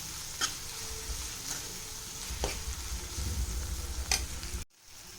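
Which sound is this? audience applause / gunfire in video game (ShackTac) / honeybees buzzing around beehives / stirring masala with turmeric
stirring masala with turmeric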